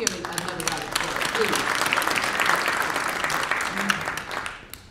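Audience applause fills a city council candidate debate hosted by a chamber of commerce, a steady dense clatter of many hands lasting nearly five seconds before tapering off, with a voice speaking over it.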